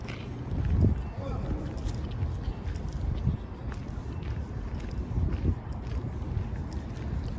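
Gusty wind buffets the microphone on an early-morning walk through downtown Winnipeg near a bridge. It makes a low, rumbling roar with a few stronger bursts, and a voice speaks briefly over it.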